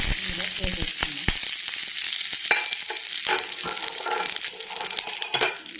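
Mustard seeds, cumin, dried red chilli and curry leaves crackle and spit in hot oil in a kadai, a dense close sizzle with sharp popping bursts and stirring clicks throughout, no voices.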